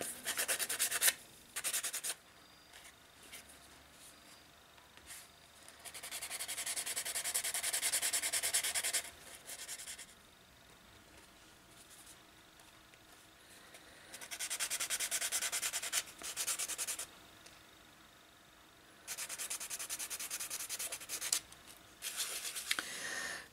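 Polymer clay edges sanded by hand with a Fimo Grind'n Polish set, repeated close scratchy rubbing strokes in several bursts separated by short pauses.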